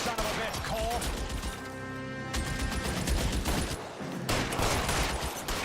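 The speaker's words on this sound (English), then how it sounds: "It's a fucking machine gun." Machine gun fire in the video game L.A. Noire comes as rapid, dense bursts of shots with a brief lull in the middle, loud and close, while a voice speaks over the gunfire.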